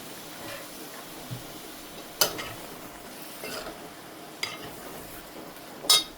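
Dry prawn curry stirred in a pan, with a few sparse spoon clicks and scrapes over a soft, quiet sizzle, close by, no voices.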